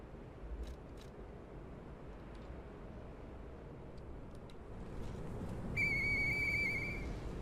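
Faded whistle blown in the game Lies of P, a single clear steady high tone sounding for over a second near the end, over quiet ambient game sound.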